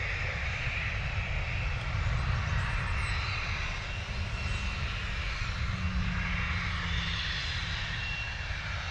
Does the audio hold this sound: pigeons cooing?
no